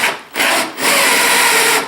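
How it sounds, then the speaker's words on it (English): A power drill spins in reverse as it scores laminate on a work table, a loud, close, steady whirring grind that starts in two short bursts before settling into a sustained run. "the best thing to do is just run it backwards and score the laminate"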